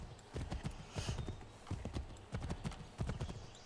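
Horse hooves clip-clop steadily in Assassin's Creed 3, a close, rhythmic trot in uneven bursts with brief pauses between them.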